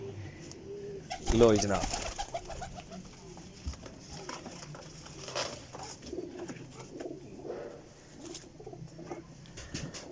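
Pigeons in a flying-pigeon loft in Sarai Alamgir, Jhelum, coo softly through a ten-second stretch, joined by light wing patter and scuffling, while someone speaks briefly near the start.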